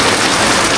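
Rain falls in a sudden rural downpour, a loud, dense hiss of drops striking surfaces around the listener in a short burst with no voices.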